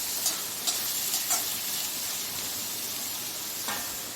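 Food frying in oil in a pan with salt added, a steady close sizzle with a few brief stirring clicks and pops throughout.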